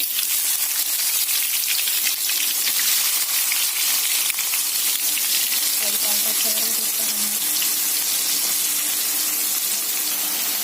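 Onions go into a pan of oil for a chicken curry, bringing a loud, steady rushing sizzle that holds for about ten seconds with no break and no voices.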